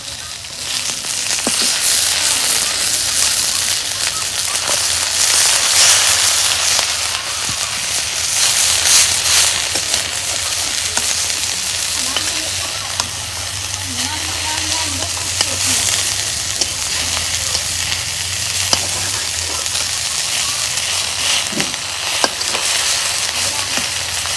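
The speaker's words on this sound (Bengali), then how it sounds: "মাছ ভাজা হচ্ছে" Bata fish fries in a pan over a clay stove with a loud, steady, close sizzle and crackle that holds unbroken the whole time, with no voices over it.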